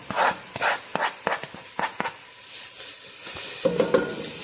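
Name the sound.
carrots sautéing in a pan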